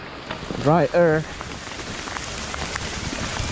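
Steady rain patters and hisses through a forest during a hard enduro motorcycle rally, with a brief burst of vocal sound near the start and the downpour continuing evenly throughout.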